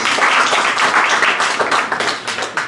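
Applause from a conference-debate audience, many hands clapping densely and loudly at first, then thinning into scattered claps as it tapers off toward the end.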